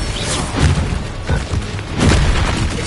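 Blasting-spell explosions in Hogwarts Legacy, a run of deep booming bursts landing roughly every half second to a second, loud and close with rumbling low end and no talk over them.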